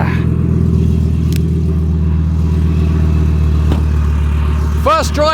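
A Skoda Octavia vRS fitted with a swapped Audi RS3 engine idles loud and lumpy, with a deep throbbing burble heard from about forty feet away, steady throughout with a brief chirpy squeak near the end.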